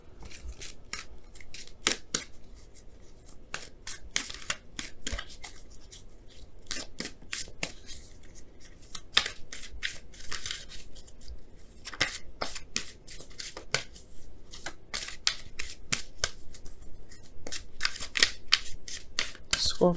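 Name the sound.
shuffling oracle cards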